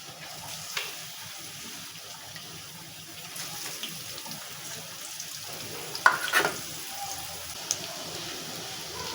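Onions fry in a pan for chicken bhuna khichuri with a soft, steady sizzle close by, broken now and then by brief scraping and clinking as they are stirred.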